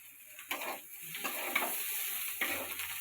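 Cauliflower frying in a pan gives a steady close hiss of sizzling oil, broken by three scraping stirs of the spatula at roughly even intervals, with no voices over it.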